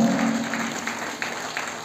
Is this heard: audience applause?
yes